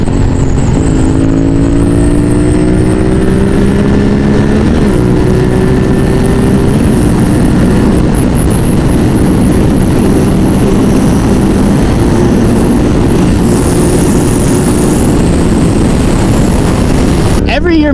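A motorcycle speeds hard along a highway, its engine pitch climbing through gears with loud continuous wind roar, close and steady throughout.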